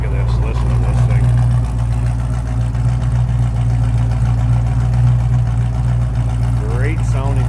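A 1969 Pontiac Firebird with a 400 engine idles loud and close, a deep steady rumble throughout, with someone talking briefly over it.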